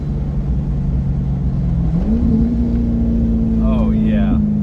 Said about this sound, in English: Let's see if you can hear some downshifts.